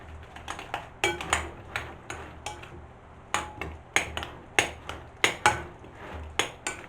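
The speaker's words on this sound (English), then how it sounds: "literally just pour that over the mixture with my spoon. Just going to fold it all together." Metal spoon folding a Spanish tortilla mixture of egg in a bowl, giving a run of sharp clinks and scrapes in an uneven rhythm, close and fairly loud, with no voices.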